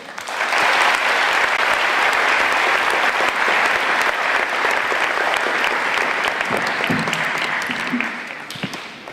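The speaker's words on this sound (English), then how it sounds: "Please give a round of applause to the Mustang Legend from the class of 1983, Horacio de Leon Jr." A school assembly crowd applauds warmly for an honored alumnus at an alumni legends ceremony, loud sustained clapping for about eight seconds before it fades and a voice begins.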